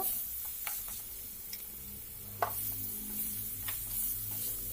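Olives stirred in a pan with spices while making pickle; quiet scraping and occasional light ticks of the spoon over a low, steady sizzle.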